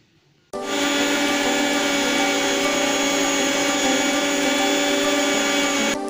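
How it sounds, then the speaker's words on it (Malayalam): A mixer grinder blends watermelon chunks with ice cubes and sugar in its jar, a loud steady whir that starts abruptly and runs continuously for several seconds before cutting off. "ആ സെയിം ജാറിലോട്ട് തന്നെയാണ് നമുക്കിതൊന്ന് ബ്ലെൻഡ് ചെയ്തെടുക്കാം."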